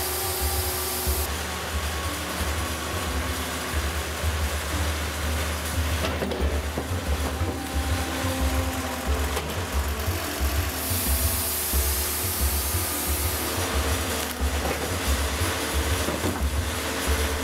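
A loud Wood-Mizer LT50 portable sawmill motor drones continuously with a whining, grinding blade noise steadily chewing through a log, broadband and harsh throughout, with no talking.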